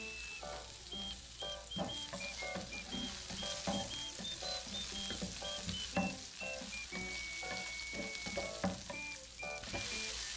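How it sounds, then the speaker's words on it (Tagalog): Ginger, tomato and chili sautéing in an oil-filled pan make a soft, continuous sizzle with scattered crackles and stirring clinks, fairly quiet and close, with thin whistling tones running above it. "Bali, magigisa lang tayo mga idol."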